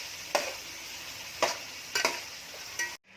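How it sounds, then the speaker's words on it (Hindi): Mutton and potato pieces half-frying in a pan, a steady sizzle broken by a few louder stirring scrapes, close up and with no talk, ending abruptly. "अभी यहाँ पे हम इसको फ्राई करके लेंगे"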